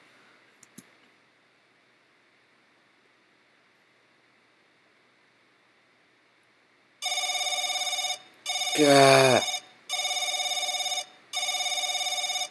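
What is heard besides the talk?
telephone ringing in video game The Crooked Man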